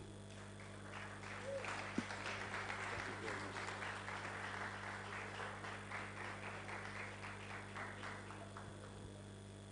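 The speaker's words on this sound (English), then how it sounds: "I think our professor deserves another round of applause" Audience applause after a presentation at an international conference on sustainable dairy production, a steady, fairly faint patter of many hands lasting about ten seconds over a constant low electrical hum.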